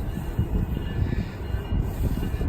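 Low rumbling and steady broadband roar of a passing train, continuous and fairly close, with some wind buffeting on the microphone.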